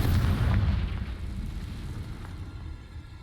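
A Confringo spell blasts in Hogwarts Legacy, a heavy low explosion that booms at the start and then rumbles away over the following seconds, with no voices over it.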